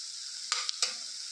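Chili, coriander and turmeric powders frying with paneer masala in a pan, a soft continuous sizzle with two or three quick scraping stirs close by.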